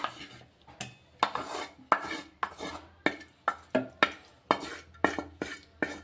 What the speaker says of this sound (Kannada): ಇವಾಗ ಇದನ್ನು ಒಂದು ಮಿಕ್ಸಿ ಜಾರಿಗೆ ಹಾಕೋತೀನಿ ನೋಡಿರಿ